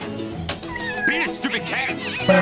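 A cat in a movie scene meows several times, loud and close, with drawn-out, wavering cries over background music and other sound.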